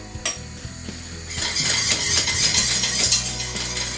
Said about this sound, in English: Slowly whisk it in.